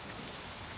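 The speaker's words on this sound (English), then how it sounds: "I kind of don't want to go out to the rain." Rain falling steadily in the video game Snow White and the Huntsman, a dense, even hiss of drops with no pauses across the short moment.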